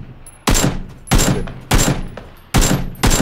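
Gunfire in the battle royale game PUBG: four sharp, loud rifle shots spaced roughly evenly, each followed by a decaying echo tail, with a faint tonal hum between shots.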